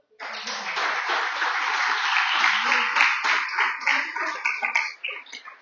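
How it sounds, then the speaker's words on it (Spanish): A church congregation breaking into applause, a dense, sustained round of clapping that swells, holds steady for several seconds, then breaks into looser, scattered claps as it ends. "Dale un aplauso al Señor."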